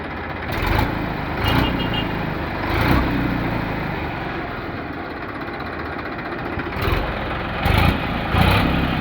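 A Massey 241 DI tractor engine running nearby, a steady diesel chug with rhythmic knocks and a few brief revs rising over the idle.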